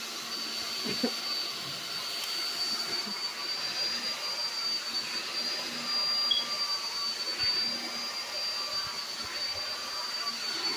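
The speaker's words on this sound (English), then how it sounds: "Look at the blow dryer, y'all." A hair dryer runs steadily throughout with a constant whirring hum and airy rush, close and unbroken, with no talking.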